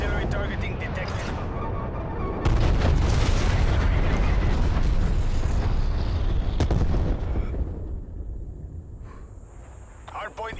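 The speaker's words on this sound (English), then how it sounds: "Artillery targeting detected." Artillery strike in Call of Duty Cold War multiplayer, heavy continuous booming and blasts thundering loudly for several seconds, then fading into a quieter tail with a lingering high whine.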